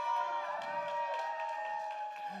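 Crowd at a hip-hop showcase in a club, cheering and whooping at moderate volume with a sustained tonal hum running underneath, fairly distant and diffuse.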